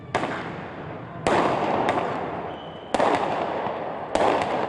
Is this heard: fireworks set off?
yes